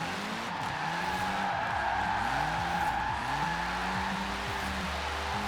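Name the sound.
Alpine sports car drifting, tires skidding in video game Forza Horizon 4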